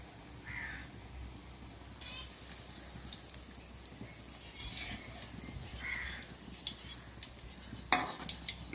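Mutton kola balls fry slowly in oil over a low flame, a soft, quiet bubbling sizzle with scattered faint pops and one sharp clink near the end.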